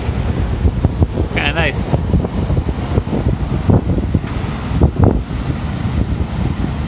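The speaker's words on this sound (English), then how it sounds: "I honestly can't tell if you guys can hear me because of this wind." Strong wind gusts buffet the microphone on a sunny Florida beach walkway, a constant rumbling roar under the brief remark of a nearby speaker.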